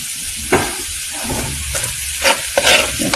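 Garlic and onion sauté in a pan, set against a steady hiss of frying oil. Several louder scraping stirs break through it, close and clear, and no one speaks.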